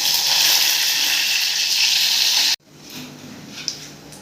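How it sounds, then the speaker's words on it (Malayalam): Mustard seeds and two dried red chillies sizzling in hot oil, a loud, steady hiss that stops abruptly partway through, followed by a quieter background with a faint clink. "ഇത് കടുകിടാം. രണ്ട് വറ്റൽ മുളകിടാം."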